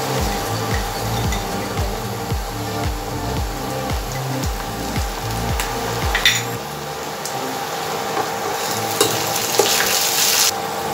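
Onion fries with ginger garlic paste in a pan, a steady crackling sizzle with repeated rhythmic scraping strokes of stirring, close and fairly loud, no voices.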